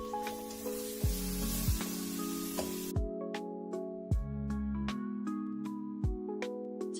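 Ground nuts and melon seed paste fry in oil with a splash of water for a restaurant-style chicken masala, giving a loud steady sizzle that drops sharply midway, broken by repeated sharp stirring clatters.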